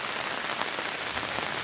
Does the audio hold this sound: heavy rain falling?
yes